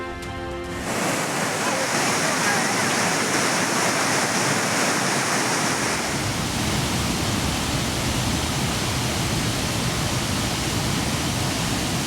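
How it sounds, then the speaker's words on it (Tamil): Swollen Courtallam waterfalls roar continuously, a dense, steady rush of falling water that stays loud and unbroken throughout. "அனைத்து அருவிகளிலும் தண்ணீர் ஆர்ப்பரிப்பதால் அனுமதி மறுப்பு."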